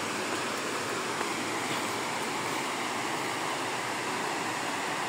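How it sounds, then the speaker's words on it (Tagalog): Loud, continuous rushing stream water at Tai Tam Reservoir North roars without pause, a dense hiss of fast-flowing current filling the whole stretch, close by and unbroken. "Yan na yung agos ng tubig na ako. Sobrang lakas."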